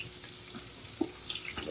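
Garlic and onion fry in oil for a mung bean dish, giving a faint, continuous sizzle with a few light pops over a very short stretch.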